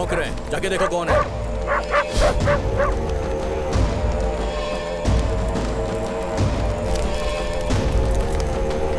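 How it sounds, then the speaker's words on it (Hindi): Dogs barking in a busy scene, several short yapping barks and whimpers recurring through the clip, mixed under dramatic background music and voices talking. "कुत्ते भौंक रहे हैं, जाके देखो कौन है।"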